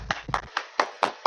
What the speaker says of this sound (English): just unmute themselves and just give that a round of applause